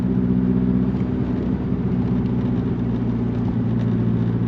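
A Nissan Pulsar GTI-R engine pulls at about half throttle on a test drive, giving a steady, close, low droning rumble with no pauses and no talking.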